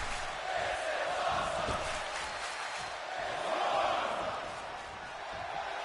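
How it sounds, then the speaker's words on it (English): Crowd cheering at a WWE 2K25 wrestling match, a steady roar of a large arena audience swelling and falling across the whole stretch, with an announcer's voice running over it. "The crowd is fired up."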